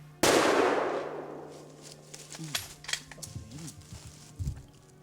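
A single rifle shot at a mule deer in sagebrush country: one sharp, loud crack that rings out and fades slowly, followed by faint metallic clinks and rustling.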